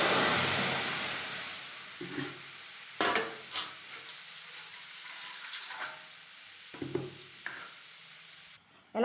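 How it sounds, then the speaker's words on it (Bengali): Mung dal batter is poured into a hot pan with a loud initial sizzle that fades. Several bursts of stirring and scraping follow, each with a renewed sizzle. "এবার আমি ডালটা ঢেলে দেবো।"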